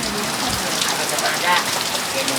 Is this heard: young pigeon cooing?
no